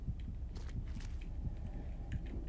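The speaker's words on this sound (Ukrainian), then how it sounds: "Та, це мій пульс." A player's heartbeat pulses in the video game Hello Guest as a steady, muffled low thumping. It repeats quickly and evenly under a constant ambient hum, with no voice present.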